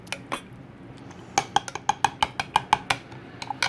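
Unsweetened cocoa powder being stirred into coffee, a quick series of bright metallic clinks of a spoon against a cup, about a dozen taps in a rapid uneven rhythm, close and clear with no talk.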